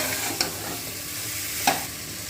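Mushrooms for a biryani sautéed in a pan, with a steady close sizzle and two sharp stirring scrapes of the utensil against the pan.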